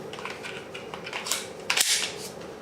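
Glock 19 fifteen-round magazine seated into a Glock 26 pistol: faint handling rustle, then a brief sharp metallic click near the end, close up with no talking.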